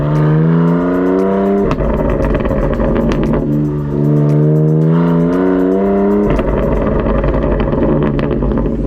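A 2020 BMW M4 Cabriolet engine revs loudly and repeatedly, rising and falling in pitch with deep throaty roars, close by and continuous.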